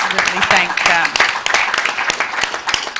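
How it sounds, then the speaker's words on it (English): Audience at a business summit gives a round of applause, many hands clapping in a lively uneven patter with sharp individual claps standing out, filling the hall for about three seconds. "give everyone who's behind the scenes just a round of applause"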